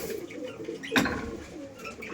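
Madrazi pigeons, including an old breeding male, give soft low coos nearby in a quiet loft, broken by one sharp knock partway through.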